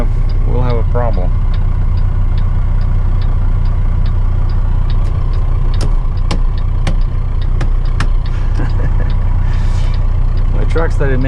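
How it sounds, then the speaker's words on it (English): A truck engine drones steadily and loudly from inside the cab on a narrow road in Western New York, with scattered knocks and rattles over the constant rumble and a brief voice early on. "The truck started making all kinds of noises."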